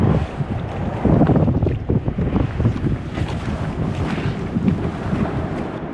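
Strong wind buffeting a kayak on a river with grassy banks, a loud, continuous rushing roar across the microphone with gusty swells and the faint wash of water.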